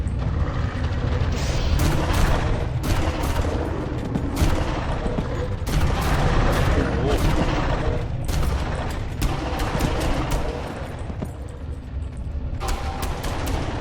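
Rapid gunfire from the video game Far Cry 5 fills the whole stretch, with dense automatic bursts and booming shots layered over a loud, constant rumble, and no pause in the shooting.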